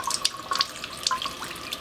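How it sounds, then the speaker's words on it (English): Gentle low-pressure tap water runs over fresh raw uni (sea urchin) in a sink, a soft close trickle with small splashes and drips and no talking. "And you just rinse it under very light pressure water."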